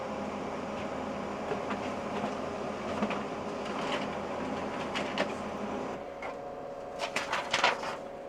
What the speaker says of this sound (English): Printer turns on, and let's hit the print button.